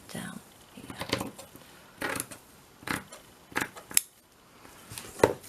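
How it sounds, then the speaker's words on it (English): Scissors cut paper for a mixed media collage journal cover in several separate sharp snips at close range, each followed by a short pause, while a person talks quietly between cuts. "I'm going to cut down here."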